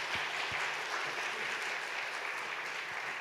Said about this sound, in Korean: 우리 큰 박수로 격려해 주시겠습니다